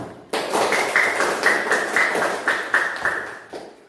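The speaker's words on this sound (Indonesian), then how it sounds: "Tepuk tangan dulu dong." Classroom of children clapping hands together in a rhythmic pattern, sharp synchronized claps in a steady beat that start abruptly and stop after a few seconds, close and fairly loud.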